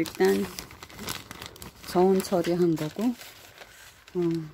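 Kitchen paper towel crinkling and rustling close up while calla lily bulbs are prepared for planting, short bursts of crackle between and under a speaking voice.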